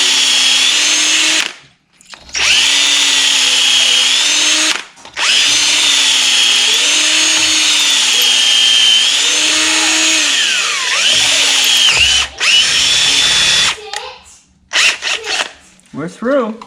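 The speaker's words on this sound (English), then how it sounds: "see if it drills straight" A power drill whines loudly and steadily with rising and falling pitch, briefly stopping twice and pausing near the end, boring a tap drill hole through metal on a Winters rear end.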